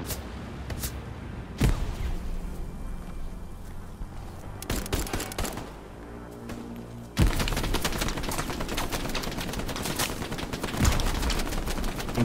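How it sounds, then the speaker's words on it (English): Gunfire crackles through a Hell Let Loose battle, with sharp single shots and then dense rapid bursts of bullets snapping and whizzing close by, loud and continuous toward the end. "Bullets whizzing."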